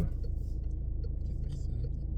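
Car rolling slowly backwards during a U-turn driving lesson, a low steady engine and road rumble heard close from inside the cabin, unchanging throughout, with faint talk now and then.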